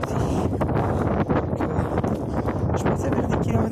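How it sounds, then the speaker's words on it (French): Wind gusting hard against the microphone on a rainy outdoor walk, a loud continuous rumbling roar with shifting buffets and no voices. "le vent s'est réinvité et la pluie est là aussi"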